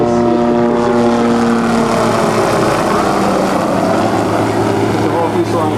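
A Hughes 500 / OH-6 light helicopter flies in a demonstration at an outdoor airshow, a loud steady engine and rotor drone holding close throughout while a voice talks over it.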